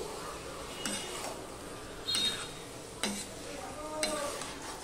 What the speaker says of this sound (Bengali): লোটে মাছগুলো দিয়ে দেখতেই পাচ্ছ সমস্ত মশলার সাথে কিভাবে আমি মাখিয়ে নিচ্ছি